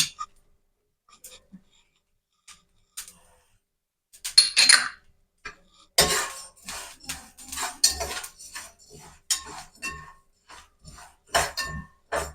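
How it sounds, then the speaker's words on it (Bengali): Whole spices frying in mustard oil for a green chilli pickle, heard as a crackling, clattering burst after several seconds of quiet, with a spoon scraping and stirring against the pan in irregular near strokes. "প্রথমে আমি আচারের জন্য গোটা মশলাগুলো ভেজে নেব"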